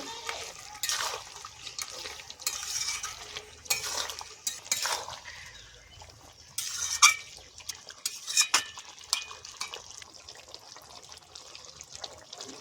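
Duck meat curry being stirred in a pan, with intermittent scraping and clinking of a utensil against metal and wet, sloshing sounds, fairly close and moderately loud, in bursts across the stretch.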